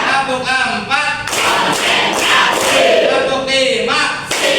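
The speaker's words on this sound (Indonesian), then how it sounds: "Tepuk 1, tepuk 2, tepuk 3, tepuk 4," Children in a classroom clap together on a teacher's count, bursts of group claps mixed with chanting voices, loud and close, with brief pauses between rounds.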